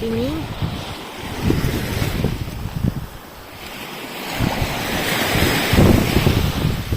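Sea waves wash onto the shore at Leucate, France, in surging swells over strong gusting wind buffeting the microphone, with brief talk near the start.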